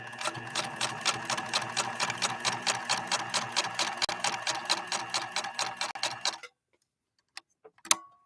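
A PFAFF 1222 sewing machine stitches a line with rapid, even mechanical ticking for about six seconds, close and clear, then stops, leaving silence broken by a few small clicks.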